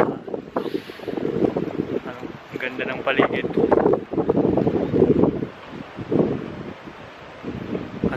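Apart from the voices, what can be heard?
strong wind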